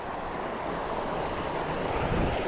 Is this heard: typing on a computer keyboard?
no